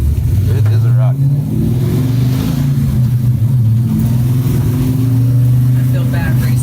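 A car bought at online auction pulls hard down a residential street, its engine droning steadily loud from inside the cabin, with voices talking over it.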